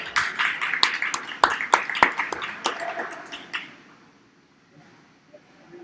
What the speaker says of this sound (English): Let's go ahead and give these two young ladies a nice round of applause